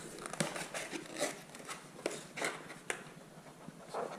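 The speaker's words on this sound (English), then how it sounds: "Let's open the box" A Corsair keyboard box being opened: soft crinkling and rustling of cardboard and plastic packaging, up close and faint, in a few irregular bursts.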